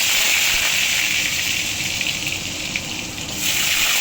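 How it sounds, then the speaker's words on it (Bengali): Potatoes fry in a pan with cumin and bay leaves, giving a steady, loud sizzling hiss that continues evenly throughout with no talking. "আলুটা আমি ভেজে নিচ্ছি"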